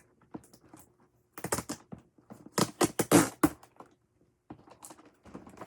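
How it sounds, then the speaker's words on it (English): Tape being pulled off a craft piece in bursts, with short ripping and crinkling strips that are loudest in the middle, close and alone with no voices. "let me just pull the tape off"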